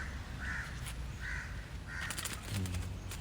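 Three hoarse caws from a crow ring out at steady intervals, moderately distant over a constant outdoor hiss, with a brief rustle near the end.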